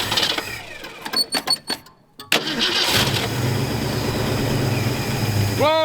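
A 1966 Ford Mustang V8 pulled from a junkyard cranks over in several uneven, loud bursts, then falls silent briefly before a steady engine drone rises, close and dominant.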